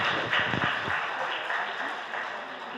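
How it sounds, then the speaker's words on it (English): Audience applause for the parents at a book release ceremony, a dense, fairly loud wash of clapping from a seated crowd, sustained and gradually easing, with no voices on top. "A round of applause for the parents for being a rock for Anantinee"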